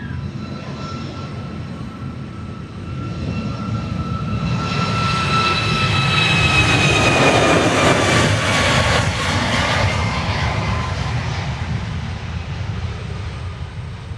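A jet airliner landing on runway 13 left at Dallas Love Field, a loud steady engine roar that swells and then eases, heard from nearby with no talk.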